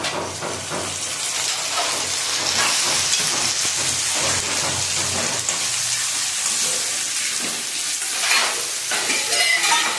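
Ginger-garlic paste hitting chicken frying in a pan for Bengali chicken kosha, giving a loud, steady sizzle with continuous hiss and stirring that runs unbroken throughout.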